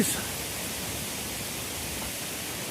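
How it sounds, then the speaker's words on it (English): Water rushes constantly over a weir, a dense, unbroken roar close by, with possible faint voices underneath. "as I'm sure you can hear the weir behind me"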